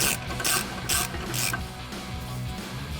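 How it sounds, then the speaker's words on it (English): A 1/2-inch drive ratchet with a 19mm socket backs out caliper bracket bolts on a 2014-2021 Toyota Tundra, clicking in four quick bursts at first, then in softer, steadier strokes, close by with no talk. "I can go back to my 1/2-inch drive with my 19mm. And remove these 2 bolts."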